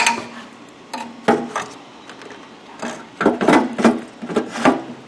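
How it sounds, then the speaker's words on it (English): Replacement motor being set into a housing and slid into place, giving a run of scattered knocks, scrapes and rubbing clunks of varying loudness, close up with no talk. "Next, set the motor and slide it in."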